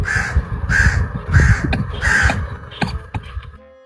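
Crows caw loudly and close by, four harsh, evenly spaced calls in a row, followed by a few shorter, scrappier caws before the sound cuts off.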